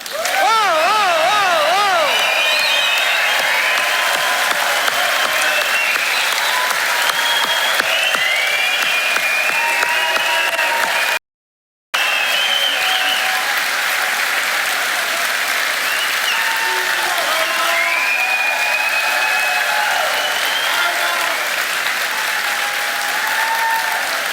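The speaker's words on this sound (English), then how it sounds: "So this is a chance to clap, scream, shout, whistle, whatever you need to for a few minutes" A graduation audience applauds loudly and steadily, with whistles and cheers rising over the dense clapping, broken by one brief gap before resuming.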